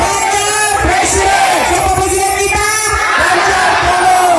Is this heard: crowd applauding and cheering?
yes